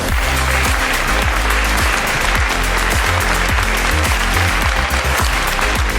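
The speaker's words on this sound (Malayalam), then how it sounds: "നല്ലൊരു കൈയടി കൊടുക്കാം" Dense, sustained audience applause fills a stage event at the Mrs. Kerala 2022 grand finale, loud and steady throughout, with no voices rising above it.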